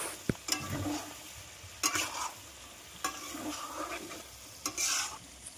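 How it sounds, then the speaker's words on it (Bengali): Chicken with shahi jeera stirred in a kadai: a spatula scrapes and knocks in a few distinct strokes over a soft, steady sizzle, close and fairly quiet. "শাহি জিরে দিয়ে ভালোভাবে নেড়ে চেড়ে"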